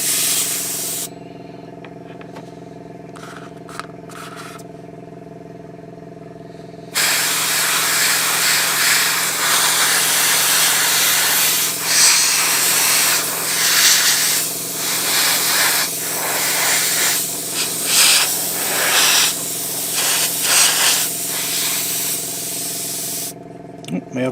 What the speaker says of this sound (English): My airbrush is running on.